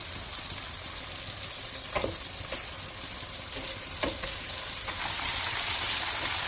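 Beef hits a pan of fried onion and garlic for a healthy stir-fry and sizzles steadily, with a few sharp stirring scrapes and clacks over the continuous hiss, which swells louder near the end.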